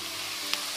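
Tomato tipped into a hot oiled pan gives a steady, close sizzle of frying with a brief brighter crackle partway through, no voices over it.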